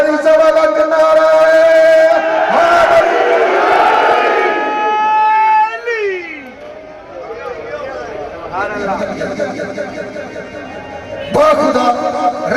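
A crowd at a Pothwari sher poetry gathering chants religious slogans in unison with loud massed voices, swelling and fading in waves, with a rowdier burst of shouting near the end.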